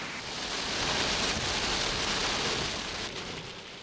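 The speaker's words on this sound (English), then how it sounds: "heavy rain battered the city again this morning" Heavy rain during a once-in-200-year rainstorm in a city, a steady, dense hiss of downpour with no talk, swelling slightly then easing toward the end.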